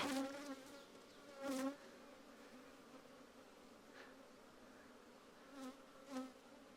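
Bees buzz at the entrance of a hive, a steady faint drone with several louder passes as individual bees fly close by, no voices.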